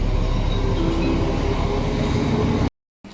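A train departs Česká Třebová station, rolling along with a loud, steady rumble and rattle of wheels, ending in an abrupt cut-off.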